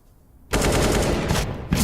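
Rapid, loud gunfire in a Counter-Strike match, where an AWP sniper rifle is in play, erupts after a quiet moment into a dense, sustained volley of sharp shots close at hand.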